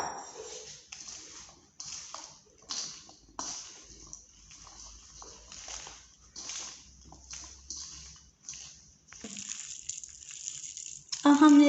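Water being poured into a kadhi pakora batter mix, splashing and trickling in intermittent bursts, fairly faint and close, with a person talking in between.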